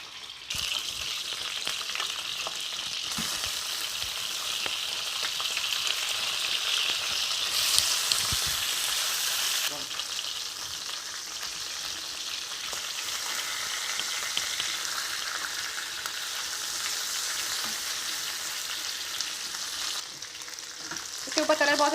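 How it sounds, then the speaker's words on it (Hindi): Chicken fries in oil in a pan, giving off a loud, continuous sizzle and crackle with brief stirring sounds, close and steady throughout with no talking. "चिकन को मैंने फ्राई कर लिया ऑयल में।"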